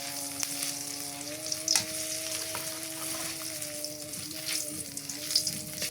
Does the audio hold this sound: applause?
no